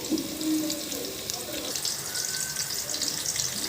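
Brinjal curry fries in a pan with a soft, steady hiss and sizzle, fairly quiet and continuous, with faint background murmur but no clear speech.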